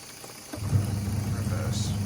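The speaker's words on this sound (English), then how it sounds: "See how powerful that agitator is?" Agitator of a Hitachi PS330P twin tub washing machine running, a low steady motor hum with sloshing water that starts abruptly after a brief quiet moment and continues evenly.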